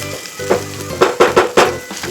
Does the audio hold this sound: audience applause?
no